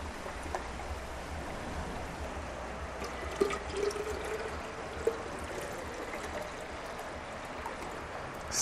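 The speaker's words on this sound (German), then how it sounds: "Dann soll das Ganze mit einem Liter Wasser noch aufgefüllt werden." A litre of water is poured into a container holding a weed drink, giving a steady, faint splashing stream with a couple of small knocks partway through.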